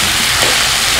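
Steady, loud sizzling of ivy gourd (dondakayi) frying in a pan, a continuous hiss with no break and no voices.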